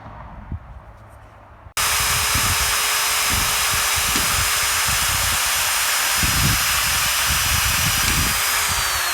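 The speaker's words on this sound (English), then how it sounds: "So here I am drilling." After a moment of quiet, a power drill starts up and whines steadily at high speed, loud and continuous with rough grinding bursts as it bites.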